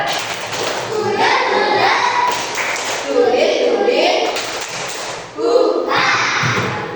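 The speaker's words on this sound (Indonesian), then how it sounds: "kita tepuk sambal dulu" First-grade children in a primary school classroom perform the tepuk sambal clapping routine, rhythmic group claps and hand thumps mixed with children's chanting voices and a teacher talking.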